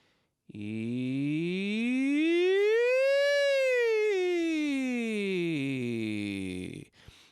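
A single voice slides smoothly up from low to high and back down again in one long continuous glide, imitating a siren, close and clear.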